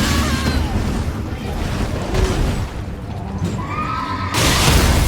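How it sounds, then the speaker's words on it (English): Night's Cavalry horse rearing up in the video game Elden Ring, a loud whinny over heavy rumbling game effects, followed by a burst of crashing noise at the end. "Again, horse rears up,"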